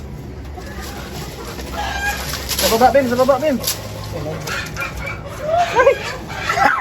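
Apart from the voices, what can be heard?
chickens clucking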